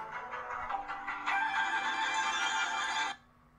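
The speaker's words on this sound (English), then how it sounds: "Literally forgot to put my phone on silent." Phone ringtone going off, a bright electronic melody that rings steadily for about three seconds and then cuts off, close and clear with no talk over it.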